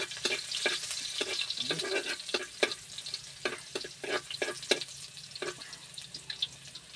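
Garlic frying in a pan crackles and pops close by in rapid irregular bursts, with the clatter of stirring running underneath.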